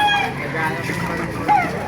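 Chickens and roosters clucking at a poultry stall in the Baliuag tiangge market, several birds calling briefly amid steady crowd noise and people talking nearby.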